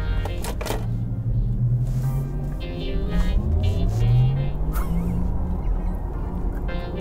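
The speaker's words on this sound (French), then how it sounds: "Elle fait un bruit de voiture de sport, ce qui est logique, hein, vu que c'est une voiture de sport électrique." A Porsche Taycan Cross Turismo electric sports car accelerates, its synthetic motor tone sweeping upward in pitch through the run, loud and close, with faint interior noise around it.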